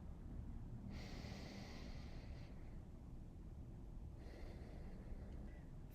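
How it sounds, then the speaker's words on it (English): Slow, deep breaths drawn during a child's pose in a vinyasa core yoga practice, two long airy inhale-exhale swells close to the microphone over a steady low background hiss. "taking a few deep breaths in, starting to slow the breath down"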